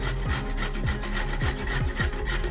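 Carrots grated coarsely on a hand grater for carrot halwa, loud close rasping strokes repeating in a steady rhythm roughly every half second, with no talk over them.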